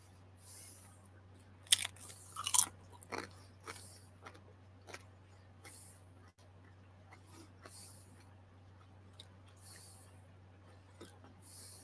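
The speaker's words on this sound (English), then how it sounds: "I started munching some barbecue potato chips" Barbecue potato chips being eaten up close, with a few loud crunchy bites early on followed by softer intermittent chewing over a steady low electrical hum in a quiet room.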